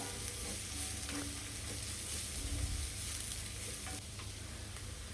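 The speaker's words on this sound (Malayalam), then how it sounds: "പച്ചമുളക് അഞ്ചെണ്ണം ചേർക്ക് സോട്ട് ചെയ്യുക" Five green chillies sizzle and fry in a pan with salt while being stirred, giving a steady, close crackle with light scraping and no talk, as part of cooking a spicy garlic chicken roast.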